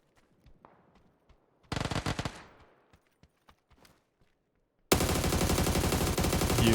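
Scattered footsteps and clicks in the video game PUBG lead into a loud burst of rapid automatic gunfire, a pause with more isolated shots, then another sustained, deafening volley.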